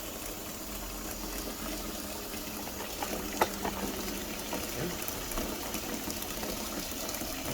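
Running water rinses grease cleaner off a surface, a steady close splashing and hissing flow with a few small clanks, no voices.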